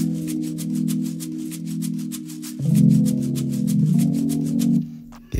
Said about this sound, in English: So first of all, I have this shaker.